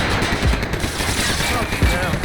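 Rapid gunfire crackles through a Max Payne 3 firefight, dense and continuous, with a couple of heavier low thumps standing out against the steady burst.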